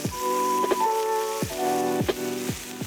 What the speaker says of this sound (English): In a large frying pan, add a little olive oil and brown the chicken thighs on each side.